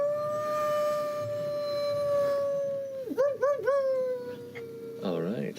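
A person imitates a wolf-like howl, voicing a long, piercing yet resonant tone that holds steady, then wavers and dips in a few warbling bends before rising again into a shorter howl near the end.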